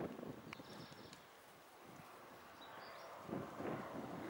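Strong wind buffeting outdoors on a rooftop where young pigeons are flown, gusty rumbling wind noise on the microphone that eases mid-clip and surges again near the end.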